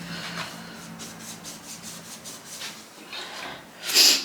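A brush scrubbing around the inside of a toilet bowl, a series of soft rhythmic rubbing strokes close by at moderate level, ending with a louder bristly scrape.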